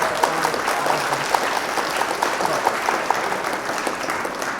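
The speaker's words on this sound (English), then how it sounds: "Let's give a huge round of applause." A crowd applauding steadily, dense clapping at moderate distance that holds evenly throughout.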